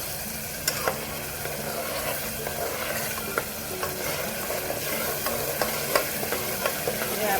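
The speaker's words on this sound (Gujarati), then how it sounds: "પછી આપણે જે ટમેટાને ખમણી લીધા છે તેને એડ કરશું આ રીતે. અને મિક્સ કરી દેવાનું છે." Grated tomatoes frying in hot oil for a sev usal gravy, a continuous loud sizzle broken by regular scraping taps of a spoon stirring the pan, with no voices.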